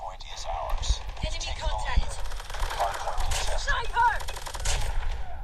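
Gunfire from a favourite weapon in Call of Duty Mobile, with rapid bursts of shots, metallic clatter and game effects filling the mix while someone talks over it.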